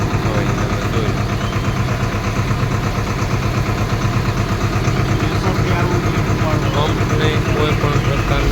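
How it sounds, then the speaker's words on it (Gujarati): A Swaraj tractor engine runs at low throttle, driving a water pump. The steady idling drone is close and constant, with a voice talking over it. "ખાલી 10 રેસ ઉપર ટ્રેક્ટર હાલે છે"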